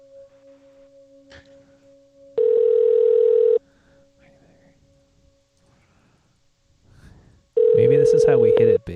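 A telephone line connects through to a voicemail service: two long, steady electronic tones separated by a quieter stretch of faint line noise, with soft talking between them.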